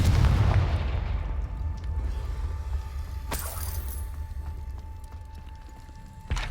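A Confringo fire spell detonates in Hogwarts Legacy, a loud booming blast up front that decays into a long rumbling tail, with a sharp crack midway and another burst right at the close; no voices.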